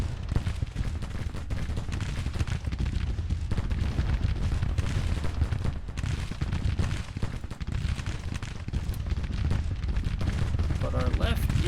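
Continuous battlefield gunfire from Civil War units in Grand Tactician: The Civil War, dense musket volleys and rumbling artillery filling the whole stretch while someone talks over it.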